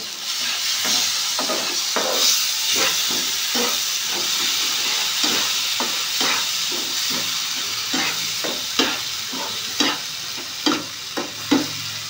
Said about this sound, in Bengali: ভালো করে এবার আমি মশলাটা কষিয়ে নিই।